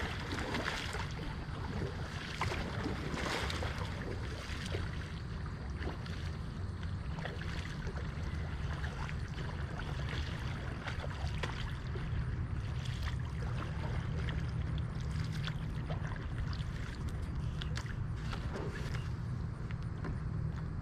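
Gentle water sloshing and dripping from kayak paddle strokes, with wind noise and a low steady rumble, no voices.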